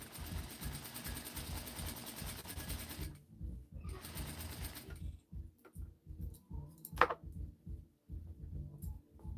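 A sewing machine stitches a seam in a jumpsuit, first in a steady whirring run, then in short rhythmic bursts with pauses and a sharp click.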